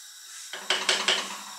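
Veal is stirred in a cooking pot: three quick scraping, clattering strokes of a utensil follow a soft background hiss, close and fairly loud.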